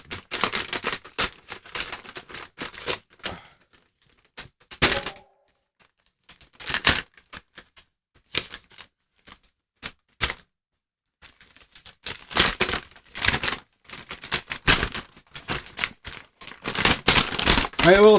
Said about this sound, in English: Let's open this bag first.